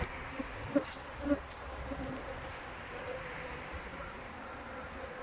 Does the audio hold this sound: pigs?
no